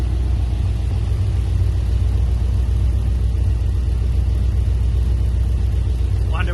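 A steady, deep engine drone comes from a Mazda RX8 with an LS V8 swap and CX Racing headers, idling evenly and close by. The loud low rumble holds with little change from start to finish.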